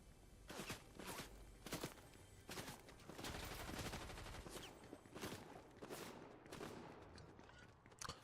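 Rapid bursts of gunfire in a shooting video game, a dense run of repeated shots and volleys that carries on steadily for several seconds at moderate loudness, with no talking.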